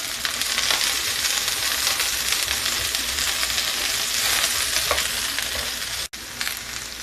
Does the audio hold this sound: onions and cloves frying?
yes